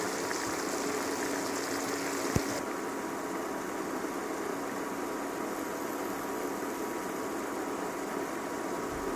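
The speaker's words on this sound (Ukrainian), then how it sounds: "заливаю кип'яченою водою" Boiled water pours in a steady rushing stream into a pan of beet patties, with a brief knock near the start.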